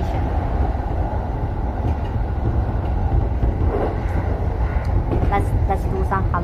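Rushing rumble of a fast commuter train running on the Yamanote line near Ikebukuro in Tokyo, steady and close, with a faint chime and an announcement voice toward the end.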